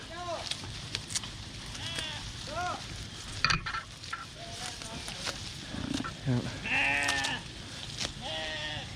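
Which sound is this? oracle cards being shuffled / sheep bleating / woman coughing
sheep bleating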